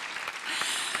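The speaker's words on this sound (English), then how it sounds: "give yourselves a round of applause" Audience applause at a ferry service launch event in Richmond, California: steady, dense clapping from a crowd, fairly close and continuous for about a second.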